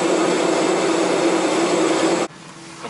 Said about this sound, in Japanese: 当機はただいま成田国際空港に着陸いたしました。